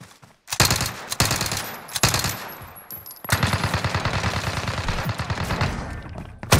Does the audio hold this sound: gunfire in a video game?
yes